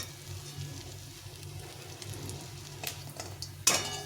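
Drumstick flower fritters sizzle steadily in hot oil in a pan, a low continuous fry with a few sharper clinks and spatters near the end, no talking.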